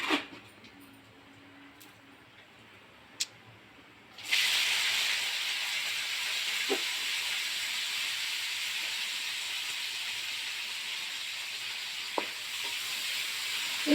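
Onion, green chili and curry leaves hit hot oil with a sudden loud sizzle that settles into a steady, close frying hiss, after a quiet start with a few small clicks.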